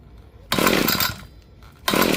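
An ECHO SRM-2620 string trimmer's two-stroke engine, a curb find, is pull-started on choke: two loud bursts of sputtering engine noise close by, separated by a brief lull.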